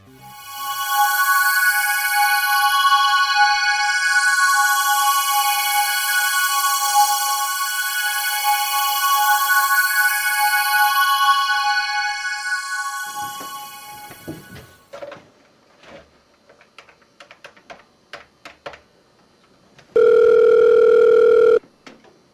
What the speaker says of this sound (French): Putain de téléphone de merde.